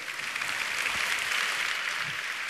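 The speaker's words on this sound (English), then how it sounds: "a round of applause for everybody" Steady applause from an audience at the 2008 World of Warcraft Arena Finals, a dense wash of clapping holding at an even level throughout with no voices over it.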